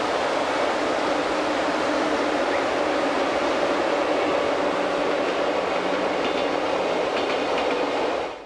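Glacier Express train running on the Albula line through the Swiss mountains, a loud continuous rumble and roar of carriages with faint rhythmic wheel clatter, steady and close for the whole stretch.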